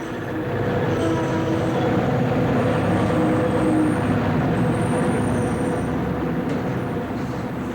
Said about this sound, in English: sounds of an approaching Amtrak train is welcome news to those waiting to board